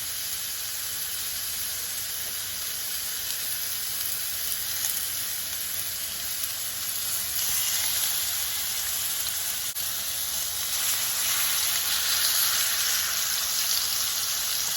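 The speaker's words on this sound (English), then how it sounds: "I'm gonna use a cast iron for this because I want a nice little sear" Pork chops searing in avocado oil in a cast iron skillet give a steady, bright sizzle that holds for the whole stretch and swells slightly louder toward the end, with no voices.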